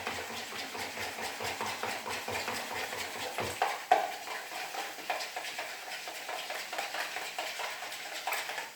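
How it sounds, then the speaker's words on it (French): Clafoutis batter with courgette and chorizo being stirred in a bowl, a continuous rhythmic scraping and sloshing with one sharp clink midway. "je mélange bien"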